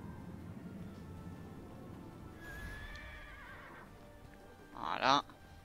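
A horse in the Neverwinter video game gives a brief whinny near the end, preceded by a soft game soundscape with faint tones and clip-clopping hoofbeats, fairly quiet overall.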